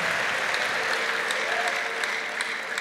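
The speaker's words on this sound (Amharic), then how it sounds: "አጨብጭቡና ጌታን ባርኩት" A church congregation applauds, steady dense clapping that holds at an even level throughout, mid-distance and without speech over it.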